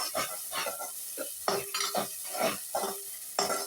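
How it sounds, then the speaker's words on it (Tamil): Onions fry in hot oil while a spoon stirs them in rhythmic bursts, with clinks against the pan and a light sizzle underneath, all close by and without speech. "இப்போ வந்து பார்த்திங்கன்னா எண்ணெய் காஞ்சிடுச்சு. வெங்காயம் போட்டுக்கலாம்."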